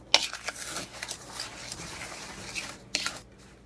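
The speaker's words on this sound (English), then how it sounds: "now once you have these 3 dry ingredients, stir them together" Dry fudge ingredients stirred together in a bowl, with a spoon scraping and clinking against the sides, a sharp knock at the start and another near the end, close and clear.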